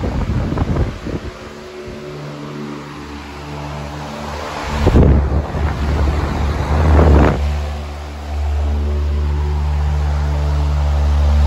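A vintage 1987 Patton U2 fan blowing hard, a loud steady roar of rushing air with a low motor hum, close to the microphone, surging briefly partway through before settling into a constant whoosh.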